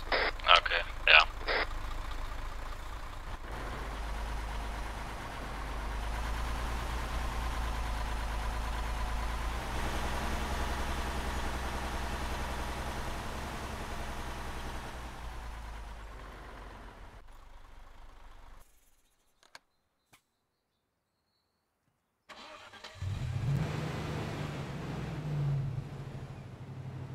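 A vehicle engine drones steadily in Arma 3, a low rumbling hum that continues for most of the stretch. It drops out briefly, then comes back heavier. Voices talk over it at times.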